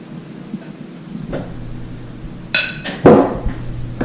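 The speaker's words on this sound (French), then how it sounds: "On mélange la farine." Metal utensil clinking and scraping against a bowl while mixing flour with leavening for doughnut batter, a few sharp taps and a scraping stir over quiet background hum.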